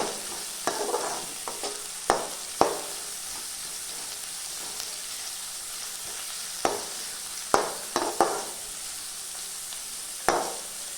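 Onion, garlic and curry leaves sautéing in a pan for drumstick fry, a continuous close sizzle broken every few seconds by a spoon scraping and stirring, with sharp clanks against the pan.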